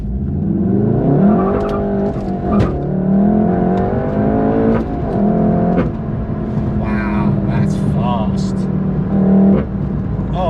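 A Golf GTI Clubsport S accelerates hard from a standstill, its engine and exhaust rising in pitch through several gears with brief dips at each shift, loud and close inside the car.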